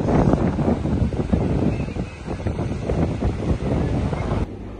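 Strong gusting wind buffets the microphone at the seaside on a cold day, with the broad wash of sea waves underneath, loud and continuous until it briefly cuts off near the end.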